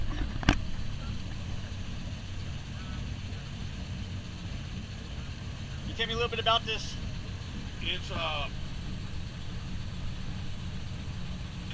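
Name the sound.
Kubota diesel generator engine running on a boat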